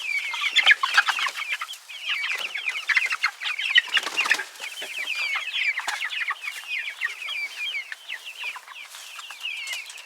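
Young chicks in an outdoor run cheep and cluck continuously around a feeder, a dense overlapping chorus of high chirps close by with no talking.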